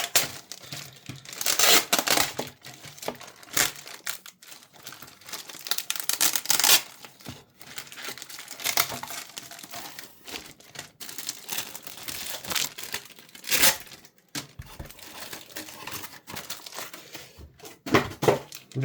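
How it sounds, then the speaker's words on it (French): Tape being torn and peeled off Takara Tomy Beyblade X 25th anniversary set packaging, heard in repeated loud ripping bursts with crinkling plastic between them, close up and with no talk. "il est résistant le scotch"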